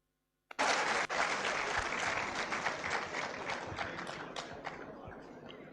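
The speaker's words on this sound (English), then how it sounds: "Another round of applause." Audience applause at a congregation ceremony in a conference centre, starting abruptly after a brief silence and holding steady and dense before slowly thinning, with a few sharper individual claps standing out near the end.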